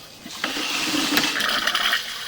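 Water rushes down a sewer line at a building on Westbourne before cleaning, a rising gurgling wash of flowing water that grows louder and continues steadily with splashy surges.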